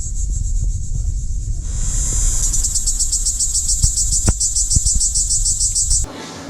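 Cicadas drone in the roadside trees of Kemer, Turkey, a loud pulsing high buzz that runs continuously over outdoor rumble and a few thumps before cutting off near the end.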